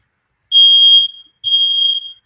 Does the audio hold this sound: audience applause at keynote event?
no